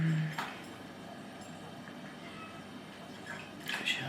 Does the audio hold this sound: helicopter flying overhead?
no